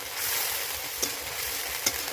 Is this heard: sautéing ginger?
yes